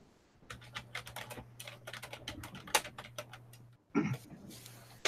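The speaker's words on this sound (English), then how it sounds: "Heavy typewriter, Jason?" Fast, heavy clacking on a keyboard, a dense run of sharp close keystrokes over a faint steady hum, pausing briefly before a few more hard strikes.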